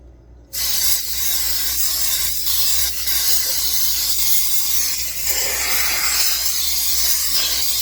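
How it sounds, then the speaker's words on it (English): A steady, continuous hiss of aerosol cooking spray coating a bundt pan starts abruptly and runs for several seconds, close and loud, with slight rubbing variations. "So we're going to spray this really good."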